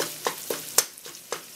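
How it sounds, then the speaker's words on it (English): Stuffed pepper filling frying in oil in a pan, a steady soft sizzle broken by several sharp scrapes and clicks as it is stirred and broken up, close and fairly quiet. "So now that it's frying up and it's built some oil"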